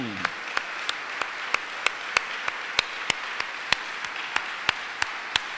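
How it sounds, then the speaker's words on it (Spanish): A congregation in a church service applauds for God, heard as sparse, evenly spaced single claps roughly every quarter second rather than a full burst, fairly soft over a quiet room. "Le damos un aplauso a este nuestro Dios."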